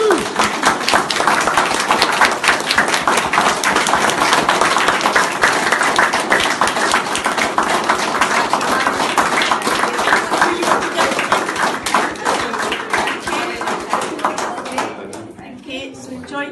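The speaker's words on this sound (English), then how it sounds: "Would everybody please be upstanding and give a great big round of applause for your Mr. and" Wedding guests clap and cheer for the newly married Mr. and Mrs., a loud, dense, sustained round of applause lasting about fifteen seconds before tapering off, with voices mixed in.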